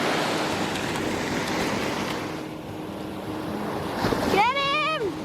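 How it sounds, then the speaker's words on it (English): Ocean waves wash onto a beach in a steady broad roar mixed with wind, ending with a brief rising whine-like tone. "Clear water. And waves."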